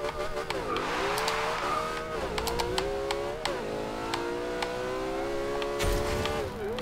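A McLaren P1 hypercar in Forza Horizon 2 accelerating hard, its engine note rising through several gear changes, loud and close throughout.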